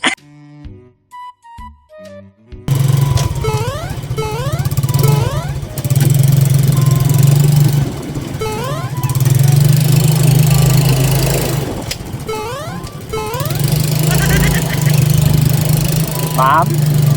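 A habal-habal motorcycle taxi engine idles steadily nearby for most of the clip, with a few revs, while people talk over it.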